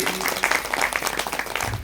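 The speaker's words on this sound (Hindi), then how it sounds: "इसलिए उनके लिए जोरदार तालियां।" An audience at a Srimad Bhagavat Katha gathering in Burari, New Delhi bursts into loud, dense applause, a continuous crackle of many hands clapping close by with no pause.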